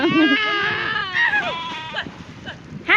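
Quavering bleats ring out close by, several wavering calls in quick succession, with a few shorter cries trailing after.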